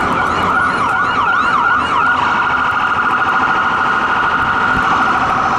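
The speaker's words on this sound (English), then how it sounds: "Shut up, ambulance." An ambulance siren wails loudly and close: rapid yelping sweeps at first, then a steady high tone that holds to the end, with no other sounds.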